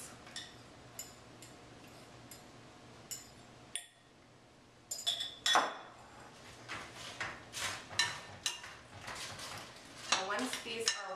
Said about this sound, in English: we'll mix these together just until moist, making sure not to overmix.